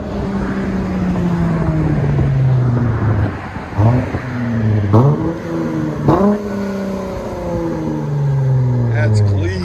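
A V6 car with a resonator delete revs repeatedly, deep exhaust rising and falling in several strong pulls with steady idle between, close and loud.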